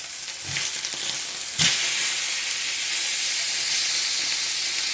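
Close, constant loud sizzle of a pepper-crusted steak searing in a hot pan, with a brief burst of louder crackle as it is moved, otherwise steady hiss with no talking.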